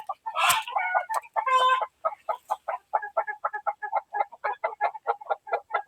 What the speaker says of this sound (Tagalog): May nakita siguro yung mga manok.